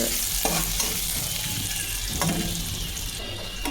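Onion and dried red chilli frying in hot oil as a tempering for Bengali-style masoor dal, a close, steady sizzle with two stirring scrapes and no talk.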